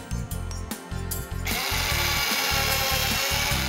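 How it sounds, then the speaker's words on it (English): Electric drill whirs in short pulsing bursts that stutter on and off, then settles into a steady loud continuous run with a grinding hum. "I think I know. A drill."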